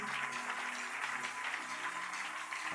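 Church congregation cheering and clapping during a French-language worship service, a dense, steady roar of applause and voices that fills the room without pause.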